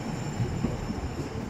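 A Robin Hood line train at Nottingham station gives off a steady low rumble of wheels and running gear, continuous and moderately close for the whole stretch, with no voices.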